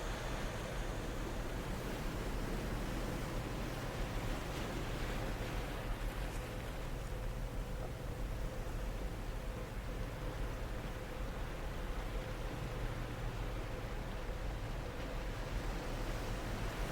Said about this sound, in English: Notice the waves coming and going.